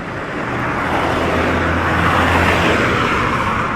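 Steady street traffic of Japanese cars such as Toyotas and Suzukis in Barbados, a loud continuous roadside rumble and hiss of engines and tyres passing close by, with no talk.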